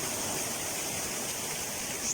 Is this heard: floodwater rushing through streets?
yes